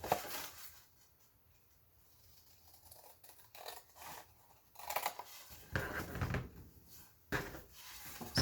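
Scissors trim a paper journal card in a few short, close snips, with quiet clicking and rustling between the cuts.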